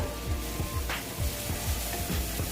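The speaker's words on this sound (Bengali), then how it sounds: "দিয়ে আমি টমেটোটা একদম সুন্দর করে এটার সঙ্গে ভেজে নেব" Grated tomato sizzling in a pan for a Bengali boal fish curry, a steady bubbling fry with rhythmic scraping strokes of a spatula throughout.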